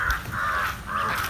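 A crow caws three times in a row, harsh close calls with short gaps between them.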